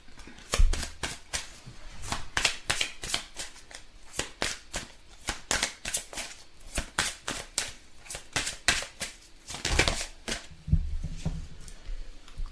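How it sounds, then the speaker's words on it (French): Tarot cards are drawn and shuffled from a deck, making a close, continuous run of quick papery flicks and slaps with brief pauses. "Donc je vais retirer quelques cartes de celui-ci."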